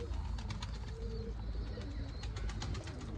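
Pigeons coo softly against a loud, rumbling outdoor background with wind noise and scattered flutters as flying pigeons are released.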